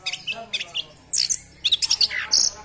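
A caged songbird, kept since it was a fledgling, sings close by in bright chirps, trills and whistled phrases, mimicking the calls of other bird species in quick bursts with short pauses between them.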